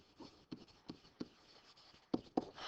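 Marker or chalk strokes on a board come in short, evenly spaced scratchy bursts, faint and close in a quiet room, with two firmer strokes near the end.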